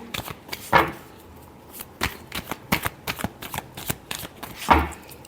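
Tarot cards are shuffled by hand in quick, crisp riffles and taps, close and moderately loud, with a couple of sharper slaps amid the rapid shuffling.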